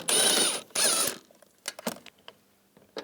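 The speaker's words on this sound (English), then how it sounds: "we're going to take these bolts out, use a 13mm socket" A 13mm socket on a ratchet works bolts loose on a 2010-2017 Chevrolet Equinox during a door actuator replacement: two loud bursts of rapid ratcheting, then scattered light clicks and taps nearby.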